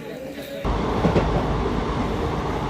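The Guntur-Rayagada Express passenger train runs with a sudden loud onset of rumbling wheels and rhythmic rail clatter, heard from inside the carriage as a steady, close roar.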